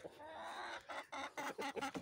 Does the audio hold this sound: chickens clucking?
yes